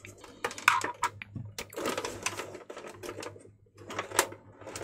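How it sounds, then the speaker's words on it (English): Screws being fitted into the bottom cover of a PlayStation 2, heard as quick small clicks and ticks of metal and plastic in irregular bursts, close and fairly quiet, with a low steady hum beneath. "I'm going to put all of these screws in before I do anything else."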